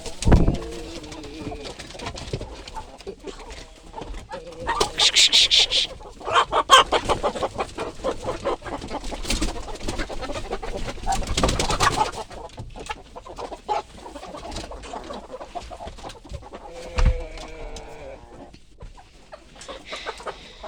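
Chickens cluck and coo in a busy flock, irregular bursts from several birds close by, with sharp louder calls now and then.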